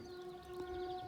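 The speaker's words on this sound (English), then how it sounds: "And that's a train on the West Highland line" A train on the West Highland line in Scotland passes at a distance, a steady tonal hum with faint whistle-like lines over a low rumble, no voices.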